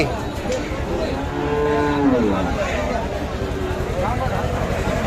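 Cattle at a market: a cow gives a drawn-out moo partway through, then a fainter call later, over a steady murmur of crowd chatter and busy background noise.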